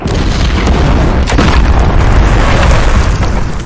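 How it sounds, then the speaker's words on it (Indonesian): A bomb trap detonates in an action film, a loud, full-bodied explosion with a deep sustained roar and rumble that fills the whole few seconds. "John tidak sengaja menginjak perangkap bom yang meledaknya saat itu juga."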